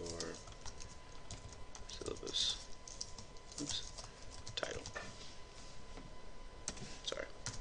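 Fingers type on a computer keyboard in a quick, uneven run of soft clicks that continues throughout, with someone briefly speaking over the keys.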